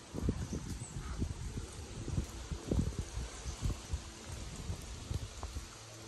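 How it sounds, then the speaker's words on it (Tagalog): Heavy rain pours steadily on a farm, with dense patter and scattered louder drops hitting nearby surfaces. "Wala ngayon trabaho kasi grabe ang ulan."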